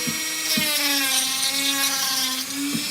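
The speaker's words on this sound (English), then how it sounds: "Normally I start with the harsher grinding bit. That way it really smooths out the really rough edges" Rotary tool with a coarse grinding bit smoothing rough, freshly debarked wood for a handmade talisman, a steady high-pitched whine with gritty rasping as the bit bites, loud and close, with small pitch dips as pressure changes.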